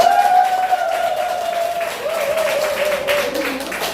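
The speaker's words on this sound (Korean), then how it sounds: "큰 박수 드립니다" Applause from a crowd fills the clip, steady and moderately loud, with a sustained tonal sound running through it.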